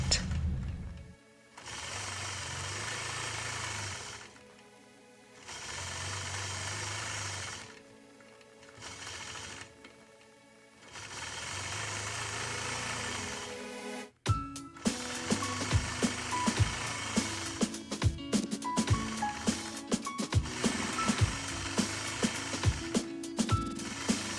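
A sewing machine quilts feathers on a basket quilt block, running in several bursts with short pauses, then switching to a denser, ticking, ratcheting stitch rhythm up close.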